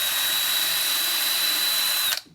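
A power drill bores through a wooden drawer front into a backer block, a loud, steady high-pitched whine that holds for about two seconds before abruptly cutting off and spinning down.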